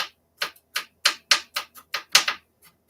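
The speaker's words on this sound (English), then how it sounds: "I'm just cutting them across real small" Okra being cut across into very small pieces with a knife on a cutting board, about nine crisp, evenly spaced chops close to the microphone.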